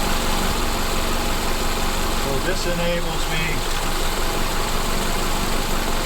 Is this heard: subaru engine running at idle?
yes